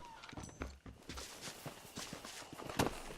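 A horse's hooves beating a quick, uneven clip-clop while ridden in Red Dead Redemption, soft and close over a faint background bed.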